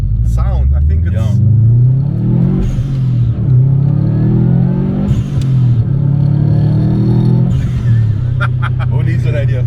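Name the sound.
Subaru WRX STi engine sound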